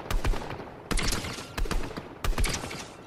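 Upgraded gun firing in Fortnite, four loud bursts of rapid shots spaced roughly evenly apart, each trailing into a brief echoing decay, heard close with no talk.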